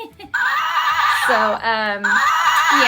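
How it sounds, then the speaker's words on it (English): A toy ride-on horse gives an electronic neigh, a loud, close whinny with a wavering pitch that rises and falls across a few seconds, played back from a small speaker. "So it does neigh."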